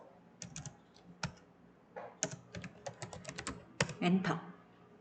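Computer keyboard typing during spreadsheet work: bursts of quick, close key clicks in an irregular rhythm, some keystrokes louder, with no talking.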